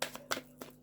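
Tarot cards being shuffled by hand, three quick riffling bursts in close succession, fairly quiet and close, with no talking.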